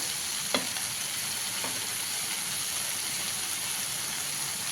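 Amaranth leaves frying steadily in a pan with chili powder added, a constant soft sizzle throughout with a couple of faint stirring clicks near the start.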